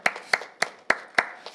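A church congregation at a Korean healing service claps in unison, five sharp, evenly spaced claps in quick succession, close and crisp.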